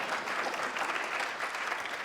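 A brief burst of steady audience clapping at a zero waste event, even and moderately distant, with no talk over it.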